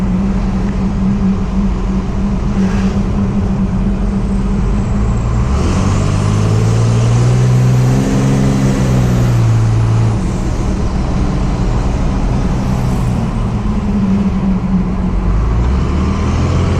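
A Cummins-swapped Ford F-250 truck accelerates hard, its diesel engine droning loud and steady, the pitch climbing through the gears and then settling as road noise carries on underneath.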